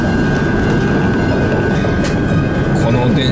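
A train runs on rails in a rural area abroad, a loud continuous close-up rumble and rattle as heard from inside a carriage, with faint squeals and no clear speech.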